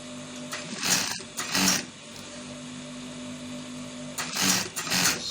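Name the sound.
sewing machine sewing V-neck of senator top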